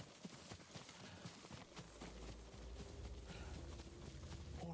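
Faint hoofbeats of horses galloping in the video game Ghost of Tsushima, a rapid clip-clop rhythm under low background noise, fairly distant and quiet.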